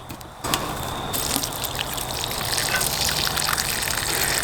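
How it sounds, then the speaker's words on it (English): Soaking water drains off swollen beans through the pour spout of a Pathfinder bush pot at a bushcraft campsite, a steady close gushing pour that starts abruptly and runs on without talk. "I'm just going to use that as my rinse. And I'm going to drain that stuff off."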